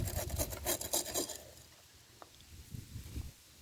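Small rocks are poured around the base of a potted Euphorbia lactea cutting, giving a close, scratchy rattling pour that fades after a second and a half, followed by a few soft shuffles.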